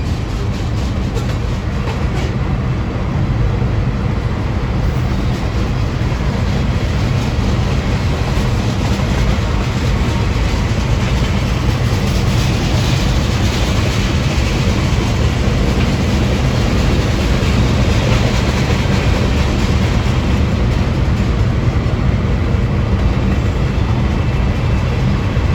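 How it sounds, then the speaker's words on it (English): A long freight train made up mostly of chemical tank cars rolls steadily past at close range near Rhome, Texas, its loud, continuous rumble and wheel clatter filling the whole stretch without pause. "And that's mostly what the whole train is right there."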